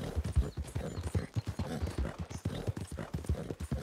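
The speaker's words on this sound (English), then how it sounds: "Man, my horse doesn't sound very good." Horse hooves clip-clopping on a road in Red Dead Redemption 2, a steady, moderately close rhythmic walking gait with soft low thuds and no talk over it.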